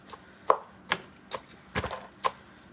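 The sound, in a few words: chopping up fruit scraps while stirring compost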